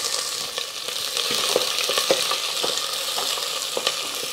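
Sliced large onion and garlic cloves with curry leaves fry in a pan for agathi flower poriyal, a steady close sizzle punctuated by light stirring taps, with no speech.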